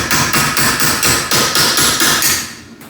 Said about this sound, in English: pound it in with a hammer.